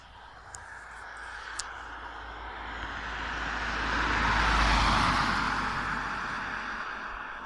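A single vehicle passes on a road, its engine rumble building to a broad peak midway and then fading. It sounds moderately distant and no one talks.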